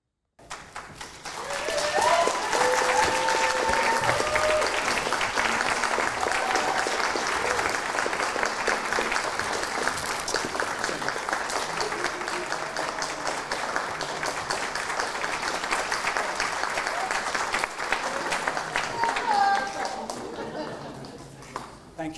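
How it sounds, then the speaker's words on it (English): An audience at an awards ceremony for learning disability and autism leaders breaks into sustained, loud applause that lasts about twenty seconds, a dense wash of clapping hands before it fades out at the end. "So let's have that round of applause now for Sarah Walters."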